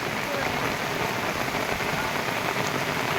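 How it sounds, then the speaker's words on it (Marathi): Heavy monsoon rain in Konkan pours down in a dense, steady hiss, drumming continuously on surfaces nearby with no break and no voices. "कोकणामध्ये लागणारा पाऊस हा जोरदार पाऊस"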